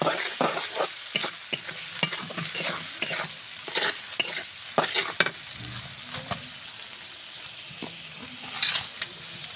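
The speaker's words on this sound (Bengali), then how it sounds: "মশলাটা কষিয়ে নেব।" Spices with turmeric and salt being sautéed for chicken curry, a low sizzle punctuated by repeated sharp scraping strokes of a spatula against the pan in an uneven rhythm, close and fairly loud.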